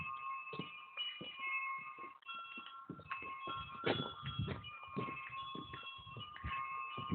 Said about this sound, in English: Interesting bells.